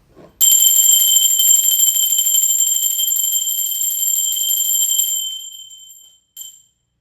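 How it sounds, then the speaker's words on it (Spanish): A loud electric bell rings steadily and continuously for about five seconds with a bright metallic tone, then cuts off, followed by a brief final ring; no voices. "va campana."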